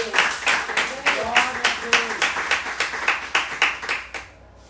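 A church congregation claps in a steady rhythm, loud and close, with voices calling out over the applause before it fades at the end.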